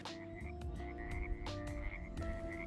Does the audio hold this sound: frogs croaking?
yes